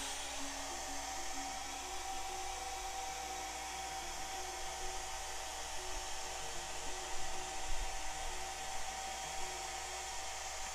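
A hair dryer runs at a steady, even whir for about ten seconds, drying mud effects on a scale model M4A3E8 Sherman tank, with a few faint clicks and bumps near the end.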